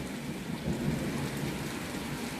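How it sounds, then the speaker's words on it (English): Heavy rain pours steadily through a stormy day, with a low rumble of thunder swelling in the middle, loud and close with no talking. "listen to that to that thunder."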